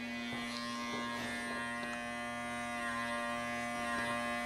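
Electric hair clippers fitted with a closed 0.5 guard run steadily while lining up braids for a mid taper fade, giving a continuous close buzzing hum with no talk.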